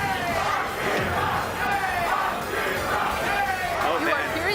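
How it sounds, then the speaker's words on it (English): A Smash Ultimate tournament crowd roars and cheers loudly and continuously, a dense wash of many voices swelling in waves throughout. "You are hearing the cheers from the crowd. Crowd going absolutely wild."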